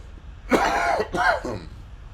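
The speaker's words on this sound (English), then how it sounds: "Pardon me, guys. Coughing over here." A person coughs twice in quick succession during a comic book auction, a rough throaty hack close to the microphone.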